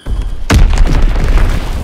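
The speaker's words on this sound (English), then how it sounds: "Enemy bomb incoming! Get to cover!" A loud enemy bomb explosion in the World War II shooter Call of Duty: WWII hits with a sudden deep boom, then a long rumbling roar and debris-like crackle that lingers to the end.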